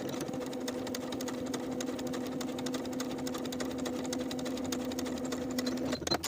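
A sewing machine edge stitches along the folded bottom edge of an apron pocket, a steady close whirring drone that runs unbroken for about six seconds before stopping.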